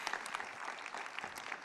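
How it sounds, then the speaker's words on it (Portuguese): A crowd claps steadily throughout at a political party inauguration ceremony, a dense, even patter of applause at moderate volume with no pauses. "podem aplaudir"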